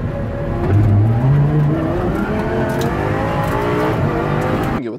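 An Audi R8 LMS race car drives hard around the Nürburgring, its engine roaring loud and close from the cabin, rising and shifting through gears without pause, and no voices can be heard.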